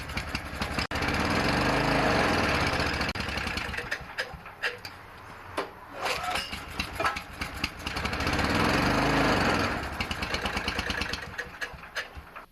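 A vintage Honda generator engine running poorly and blowing back fuel, loud and close, surging and sputtering unevenly with sharp pops and dips in speed instead of holding a steady idle.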